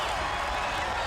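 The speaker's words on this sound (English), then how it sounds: "This crowd here in the Boston Garden coming to life, trying to put some life back into Billy Jack." Wrestling crowd in the Boston Garden cheering and roaring, a steady, dense wash of noise with clapping mixed in, continuous and loud.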